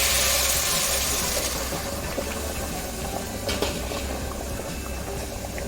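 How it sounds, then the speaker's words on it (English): Boiling water hisses and bubbles as it is poured into rice for biryani, a steady rushing sizzle that gradually settles, with no voices. "the water is also boiling there. So let's pour the water into this."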